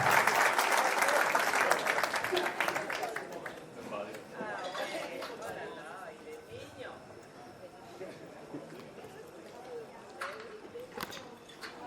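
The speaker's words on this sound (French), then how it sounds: "Applaudissez pour maman Françoise." A gathered audience gives an ovation, loud dense clapping at first that thins to scattered claps under chatter and talking voices, with one or two sharp late claps.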